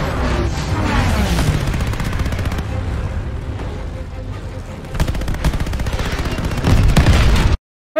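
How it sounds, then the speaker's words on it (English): Gunfire and flak in the Midway mission of Call of Duty: Vanguard, a World War II air combat game, with loud rapid bursts of machine-gun fire and explosions, sometimes under talk, ending abruptly. "flying through all this gunfire and all of this flak and all of these bullets"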